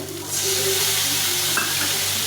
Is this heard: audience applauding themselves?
no